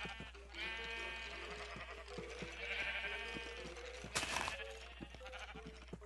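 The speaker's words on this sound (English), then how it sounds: "A sheep just ate above me." Sheep in the block-building video game Minecraft, set up for automated wool collection, give several nasal, wavering bleats in a row, clear and fairly close against a faint background.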